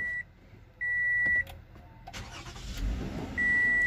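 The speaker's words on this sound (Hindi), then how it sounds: "गाड़ी मैंने स्टार्ट की" A Toyota Avalon engine starts up after a few electronic dashboard beeps, then settles into a steady idle, close and fairly loud with no talking.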